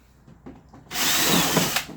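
A 3/16 bit in a power drill bores out a rivet on a Patriot Forester chipper/shredder: a few faint knocks, then an abrupt, loud, sustained high whine close by that holds for about a second.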